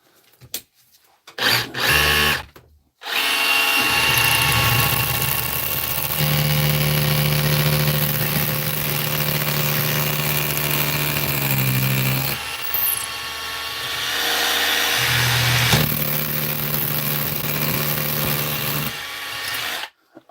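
A power drill with a bit going blunt bores into a block in a workshop, a loud steady whine running for long stretches with a brief pause mid-way and short bursts at the start.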